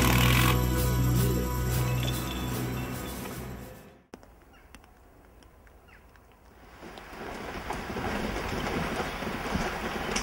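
Wind gusts roar across a pre-school building site during roof panel work, buffeting the microphone with loud rumbling that drops briefly mid-way, then surges back strongly.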